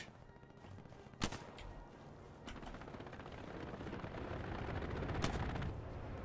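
Gunfire in a tank-spotting multiplayer shooter, a few sharp distant shots standing out over a steady rumbling battle bed.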